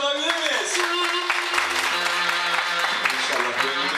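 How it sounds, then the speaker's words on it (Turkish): Crowd at an evening event applauding for the Sakarya Spor football team before a final match, clapping mixed with loud music and vocal tones, fairly close and continuous. "yarın akşamki final maçı için Sakarya Spor'umuza kocaman bir alkış alabilir miyiz?"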